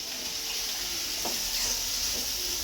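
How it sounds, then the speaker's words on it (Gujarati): Cabbage, capsicum, onion and carrot sautéing in a pan for homemade chow mein give a steady, close sizzle and hiss, with faint stirring scrapes. "સાંતળી લેવાનું, પણ આને બહુ પકાઈ બી નહીં દેવાનું, અધકચરા જ રાખવાના"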